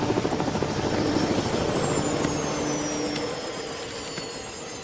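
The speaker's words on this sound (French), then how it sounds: "Il faut être inconscient pour faire atterrir un hélico ici." A loud helicopter drones with a steady rotor thump and engine whine, close by, fading slightly toward the end.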